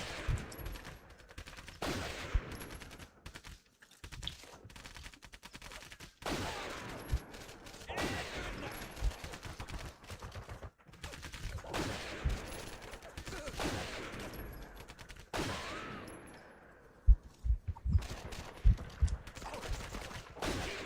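Enemy gunfire from the Medal of Honor Heroes 2 video game comes in repeated loud bursts and volleys, with short quieter gaps between them and a few sharper cracks near the end.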